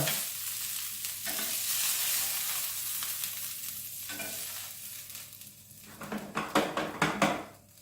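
Chicken meatballs simmering in tomato sauce in a pan, a steady soft sizzle and bubble with a few clinks of a utensil stirring near the end, close up.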